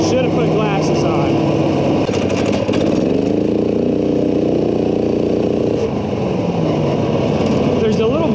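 A go kart with a swapped 420cc engine runs close by, its buzzing engine note rising and falling steadily under wind noise, while someone talks over it throughout.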